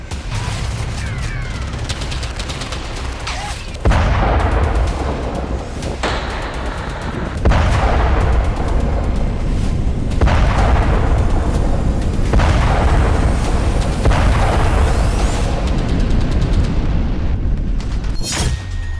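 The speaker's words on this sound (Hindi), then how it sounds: "हिजबुल्लाह ने इजराइल पर दागे रॉकेट" Rocket fire and explosions in a Hezbollah–Israel conflict zone, with repeated heavy booms and sustained roaring blasts arriving every few seconds, loud and close throughout, with no voices.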